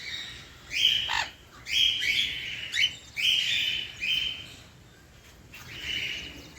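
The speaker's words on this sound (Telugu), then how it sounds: "మా బర్డ్స్ అయితే భలే ఎంజాయ్ చేస్తున్నాయి" Pet birds in a newly set up aviary chirp in bright, repeated bursts about every second, close and clear over a steady background hiss, with a quieter gap near the end.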